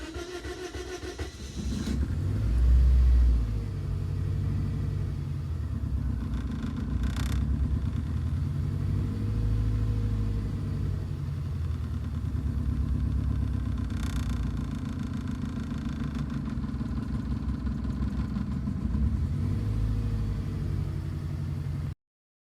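A 2006 Scion xA engine cranks briefly with a surge, then settles into a steady, loud low rumble of idling that continues unbroken to the end.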